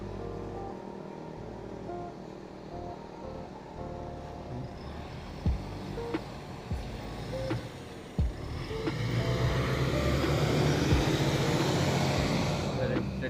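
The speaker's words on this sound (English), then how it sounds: "Let the bus go first, eh?" A bus rumbles along the road nearby, its engine swelling louder in the second half as it passes, with a few sharp knocks and clicks from an ebike and traffic in a busy street.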